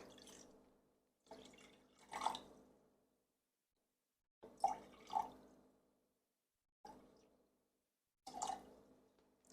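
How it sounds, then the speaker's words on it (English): Filtered water pours into a measuring container in several short bursts separated by silence, each pour close and gentle, ending with a faint splash. "now I'm going to go ahead and measure 90 grams of filtered water"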